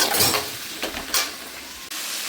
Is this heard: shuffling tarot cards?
no